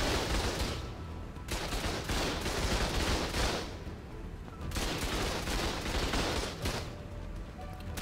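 Rifle gunfire in the ARK Genesis video game, with dense, loud bursts of shots in rapid succession and brief lulls in between, heard with no talking.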